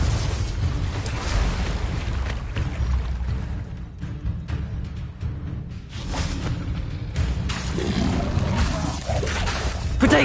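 A Confringo fire-blast spell cast in the game Hogwarts Legacy, giving loud, rumbling explosive bursts with a roar-like low body that stays dense and sustained through the clip amid game-battle noise.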